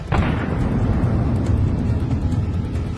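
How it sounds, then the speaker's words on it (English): A sudden loud explosion of ammunition carried by a Russian ground drone, struck by a Ukrainian drone on a road, followed by a deep rumbling roar that lingers and slowly fades over a few seconds. "Judging by the explosion, it was carrying ammunition that never made it to its destination."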